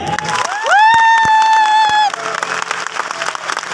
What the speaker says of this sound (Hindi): नेक्स्ट मनी के लिए तालियां बजाइए।